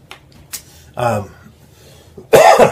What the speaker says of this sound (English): deal with my cough